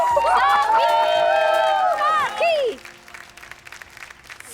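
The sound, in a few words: applause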